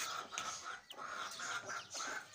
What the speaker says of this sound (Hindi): यहाँ पे हम अब मुर्गियों को दाना पानी डालने लगे हैं